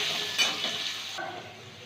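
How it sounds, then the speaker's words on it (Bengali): Potatoes seasoned with salt and turmeric fry in hot oil for an egg curry, a steady close sizzle with a brief stirring scrape early on, quieting somewhat toward the end, no talk. "আলুগুলো খুব ভালো করে ভেজে নেব।"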